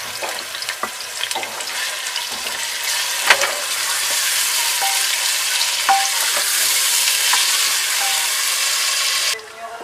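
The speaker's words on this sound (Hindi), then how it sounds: "फिर उसके साथ साथ डाल देंगे प्याज, इसे लाइट गोल्डन ब्राउन होने तक फ्राई करेंगे" Onions fry in hot oil inside a pressure cooker with a steady, bright sizzling hiss, occasional stirring clinks, and an abrupt stop near the end.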